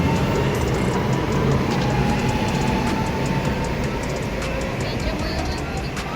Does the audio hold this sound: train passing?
yes